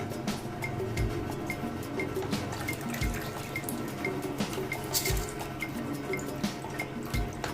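Water for cooking rice poured off through a kitchen strainer: steady trickling and dripping with splashy patters, close and moderately loud, continuing throughout with no talk.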